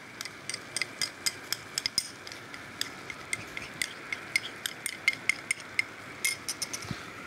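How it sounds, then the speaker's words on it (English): A spoon stirs lentil pie filling with fennel and sweet soy sauce in a pan, producing a steady run of light clicks and scrapes against the metal over a soft background hum. "Give that a good old stir."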